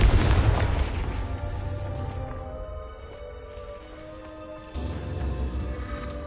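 A Confringo spell blast in Hogwarts Legacy erupts as a loud, deep boom that rolls off into a fading rumble, followed by a second lower thump a few seconds later.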